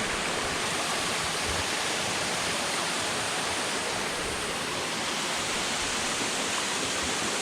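Cascade Waterfalls in Portland, Jamaica pours with a constant, dense hiss and roar, close and steady throughout without pauses or voices.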